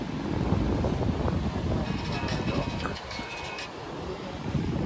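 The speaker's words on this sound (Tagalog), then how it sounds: "Sarap ng hangin dito, parang lumilipad ako." Strong wind buffeting the microphone at a beach in Baler, Aurora, heavy low rumbling gusts that ease slightly midway, with faint surf or background sound underneath.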